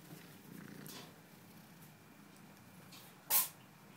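A kitten purrs softly while being petted, a low continuous rumble near the microphone, followed by a brief sharper rustle or thump near the end; no one speaks.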